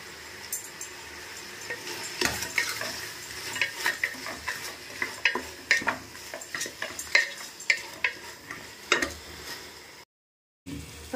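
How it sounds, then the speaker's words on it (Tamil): Curry leaves fry in hot oil for a basmati chicken biryani, with a soft sizzle under repeated sharp clinks and scrapes of a stirring spoon against the pot, then a brief silent gap near the end. "கருவேப்பிலை போடுறோங்க."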